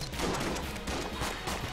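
A brief, dense burst of shotgun blasts from enemies in the Enter the Gungeon video game, fairly quiet and muffled, crackling continuously.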